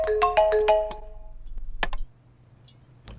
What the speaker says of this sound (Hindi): तुम्हारा फोन रिंग हो रहा है